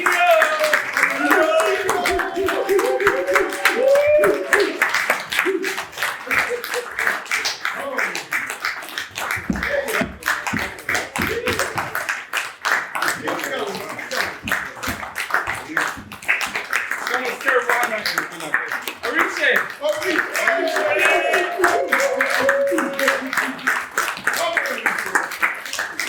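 Rhythmic audience clapping at a graduation ceremony for 8-to-12-year-old boys, steady and fairly close, with shouting voices and crowd noise running over the beat throughout.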